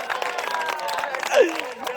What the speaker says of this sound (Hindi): तालियां अपनी पंक्तियों पे झूम के उठनी चाहिए